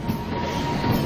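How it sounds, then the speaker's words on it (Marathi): A train rolling past a closed railway gate in Itwari, Nagpur, a brief steady rumble with a faint high whine, dense and continuous. "तर इथून ट्रेन सुद्धा आली आहे आणि तुम्ही बघू शकता इथं गेट बंद आहे ना"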